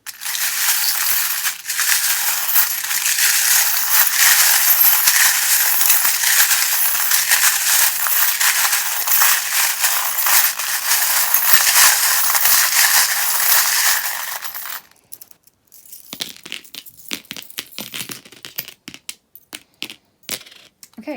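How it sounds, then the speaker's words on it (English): Tarot charms rattle and clink in a dense, loud, continuous jangle while a deck is shuffled. It stops abruptly after about fifteen seconds, leaving a few sparse, quieter clicks and taps. "If you don't like the sound of the charms, anyone who's watching, just turn down the volume a little bit while I shuffle."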